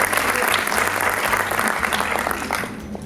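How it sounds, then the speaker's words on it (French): Applause from an audience at a pharmacy day award event, a dense, continuous wash of many hands clapping that tapers off gently near the end. "j'applaudis énormément et j'encourage"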